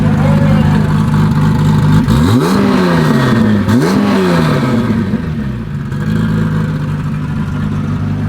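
An air-cooled 707 hp Porsche 911 Turbo is revved twice in quick succession, each blip rising sharply and falling back over a loud, rough idle nearby. Faint voices sit under the engine noise.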